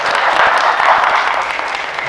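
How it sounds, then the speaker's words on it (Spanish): Loud, dense applause from a crowd at a quinceañera celebration, a steady wash of clapping that holds evenly for a couple of seconds. "le damos un fuerte y caloroso aplauso a la quinceañera"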